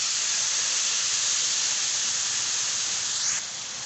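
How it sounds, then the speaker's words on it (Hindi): A dense, steady hiss of heavy rain pours down continuously, loud and close, with no voices. "ये देखें कितनी तेज़ बारिश हो रही है।"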